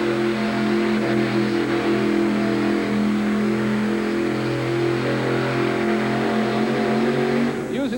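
A Dodge monster truck's big KV engine roars steadily at high revs at a 1988 truck pull in Denver, droning loud and close for several seconds, with the pitch rising sharply at the very end.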